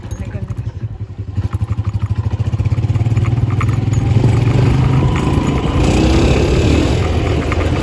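A Honda motorcycle revs while being ridden, its close, loud engine pulsing rapidly and steadily as the rider speeds up along the road.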